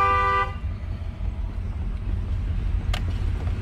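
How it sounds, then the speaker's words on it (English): A truck horn gives one loud, steady honk at the start and then cuts off, leaving a low traffic rumble and a brief higher burst of noise later on. "Why is that dude honking at us?"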